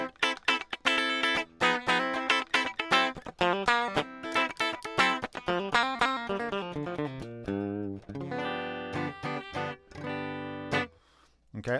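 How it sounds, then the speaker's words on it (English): Clean electric guitar tone from a Reverend guitar with DiMarzio pickups, played with no effects: strummed and plucked chords and funky muted stabs in a steady rhythm, close and fairly loud, with a short pause near the end. "this is the sound of a guitar with no rig"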